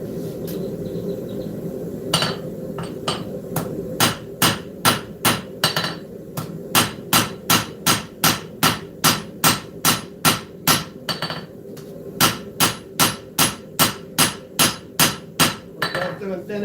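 A hammer strikes a knife tang during a live forging session, starting with scattered blows that settle into a fast, regular run of ringing metal hits.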